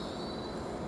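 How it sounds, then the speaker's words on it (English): Greater Anglia train, a Class 755 unit, running late at March railway station, gives a steady rumbling roar with a thin high whine held throughout, fairly close and continuous. "Now this late running Greater Anglia train"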